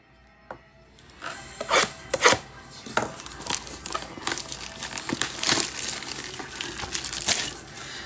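Hanger box of trading cards being opened, its cardboard and plastic packaging crinkling, tearing and rustling in close, irregular bursts that stay fairly continuous throughout, with no talk over it.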